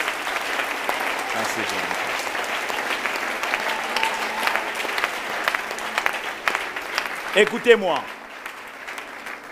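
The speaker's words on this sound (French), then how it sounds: "Acclamons le Seigneur notre Dieu" Congregation clapping throughout a church worship service, a dense, steady applause with a voice speaking over it and a few louder claps near the end.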